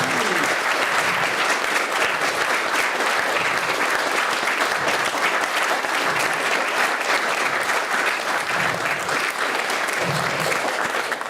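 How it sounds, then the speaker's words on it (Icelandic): A standing audience gives a long, dense round of applause at a memorial gathering, the clapping loud, steady and unbroken from start to finish. "við gefum henni gott klapp"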